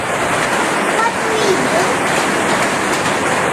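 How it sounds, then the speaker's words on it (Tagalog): Steady rain pours down outdoors as a dense, even hiss that fills the whole stretch without a break, with people talking over it. "Nabot na ng ulan mga paps."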